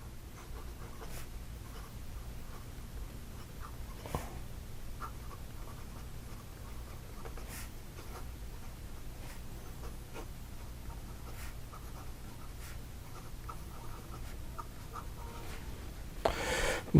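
Pelikan M800 fountain pen nib scratching across paper, a faint, steady, close-up scritching with intermittent soft strokes and taps, no talking.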